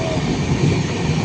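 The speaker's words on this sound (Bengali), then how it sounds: "তো আমাদের ট্রেন চলেছে" A moving train gives a brief, loud, steady rumble with a dense low roar and no distinct clacks.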